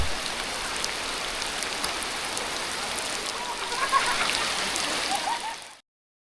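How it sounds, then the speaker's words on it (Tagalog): Steady rain falls in a dense, even hiss close by for several seconds, with a few brighter drips near the end before it cuts off abruptly. "Umuulan na nga ni."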